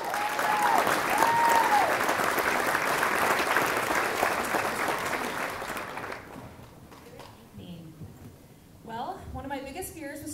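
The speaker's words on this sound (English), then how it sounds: "Please give a big round of applause" A large audience at a Distinguished Young Women program applauds for the MC, a broad, sustained wash of clapping and cheers that fades out after about six seconds into scattered claps, murmurs and a voice.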